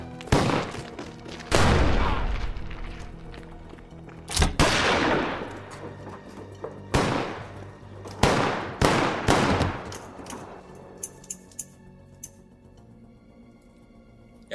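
Shotgun blasts echo outdoors, a series of loud, spaced booming shots with long reverberant tails, gradually giving way to fainter sharp reports.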